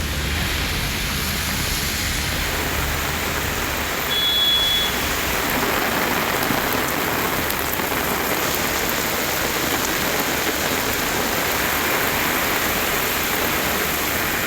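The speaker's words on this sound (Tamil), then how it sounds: "கிருஷ்ணகிரி மாவட்டம் ஓசூர் சுற்றுவட்டாரத்தில் கனமழை பெய்தது." Heavy rain pours steadily around Hosur in Krishnagiri district, a dense, even hiss of water on surfaces that holds at the same loud level throughout, with no voices.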